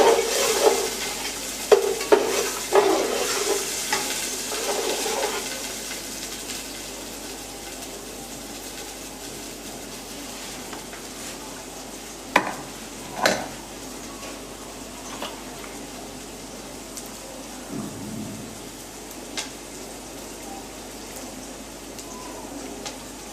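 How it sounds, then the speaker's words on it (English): Chopped onions frying in hot oil in a pot, stirred with a spoon: a few sharp scraping clicks early on, then a steady low sizzle with occasional knocks, fairly faint and close. "I now add my already chopped onions. Stir it a bit so that it will not burn."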